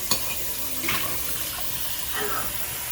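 A pot is rinsed under a running kitchen tap, water splashing and rushing steadily for a few seconds with brief clatters.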